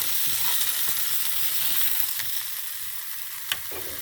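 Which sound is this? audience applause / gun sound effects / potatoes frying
potatoes frying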